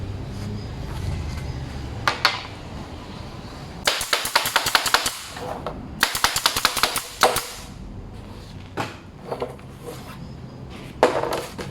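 A nail gun fires a wood strip into 12 mm plywood in a workshop, giving sharp, loud cracking shots in irregular bursts and clusters, some rapid-fire, with quieter handling noises between them.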